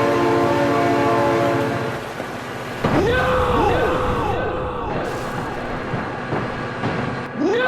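A train in the driving game BeamNG blares its horn repeatedly over a continuous loud rumble of rolling cars, with sliding horn tones layered on top and a voice exclaiming at the same time.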